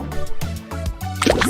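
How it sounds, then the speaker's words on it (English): A cartoon splash effect in a children's colours and surprise-eggs song, a short bright watery burst near the end following rhythmic plopping tones, loud and clean with no talk. "Splash!"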